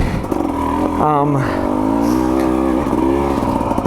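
A 2024 KTM 300 XC-W two-stroke dirt bike engine revs up and settles into a steady drone, with a voice talking over it throughout.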